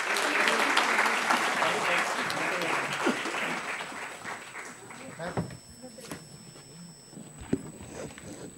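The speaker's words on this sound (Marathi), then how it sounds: "जरा जोरदार टाळ्या." Audience at an award ceremony honouring farmers breaking into loud, dense applause that gradually thins out and fades near the end.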